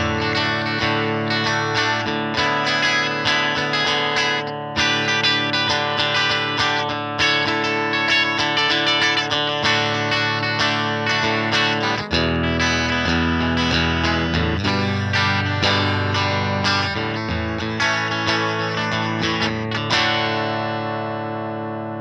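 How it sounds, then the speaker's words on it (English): Guitar played through a Fender '65 Princeton Reverb model on a Tone Master Pro, single 10-inch speaker with ringing reverb and vibrato, a loud continuous passage of strummed chords and picked notes that rings out at the end. "Mid-60s Fender studio favorite with the snappy tone of a single 10-inch speaker and richly ringing"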